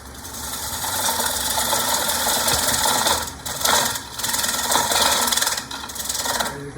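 A half-inch gouge cuts a hard, dry maple bowl on a wood lathe with a continuous, loud scraping rasp that surges and dips in short pulses as the tool bites.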